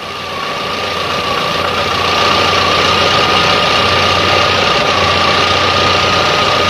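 A Volkswagen engine with a 2E7 carburetor idles steadily and loudly up close at normal operating temperature, a constant droning hum with a slight rise in speed early on and no voices.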